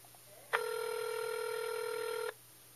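A single long telephone ring tone sounds while a call on an iPod touch rings through toward an answering machine, steady and fairly loud against a low hum, starting and stopping abruptly.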